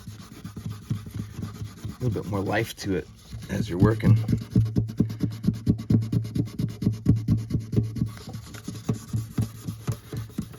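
Rhythmic back-and-forth strokes of 120-grit sandpaper on wood, close and steady, with someone talking over the first few seconds.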